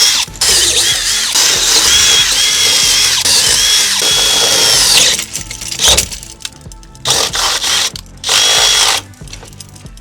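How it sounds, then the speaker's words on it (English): A power drill whines loudly, drilling pilot holes steadily into a RAM ProMaster van's metal body, then cuts out and restarts in a few shorter bursts with pauses between. "I find it's easier to drill a pilot hole first, using a smaller drill bit"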